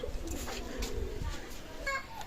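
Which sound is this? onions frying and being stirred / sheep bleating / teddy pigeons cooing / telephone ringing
teddy pigeons cooing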